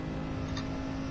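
Turbocharged car engine accelerating during a GT4 championship race in the racing game Gran Turismo Sport, a steady, loud, dense drone with no breaks.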